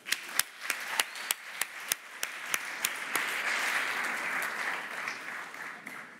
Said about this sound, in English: Another round of applause for Doug